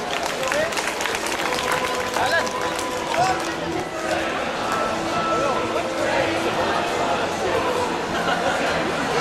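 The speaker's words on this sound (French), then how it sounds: "Merci de l'applaudir." An audience at a cosplay costume prize-giving at Japan Expo applauds a fifth-prize winner, with steady, fairly loud clapping and crowd chatter running throughout.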